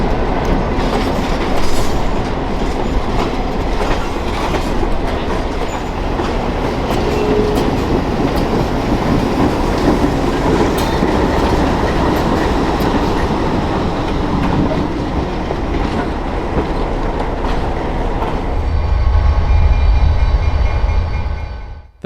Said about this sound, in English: After meeting the Pullman train, the caboose train shoves back into the museum grounds.